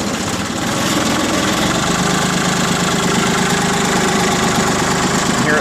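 A Mitsubishi MT205 three-cylinder diesel tractor cranks and fires, then settles into a loud, steady, close knocking idle with a continuous low throb and no pause.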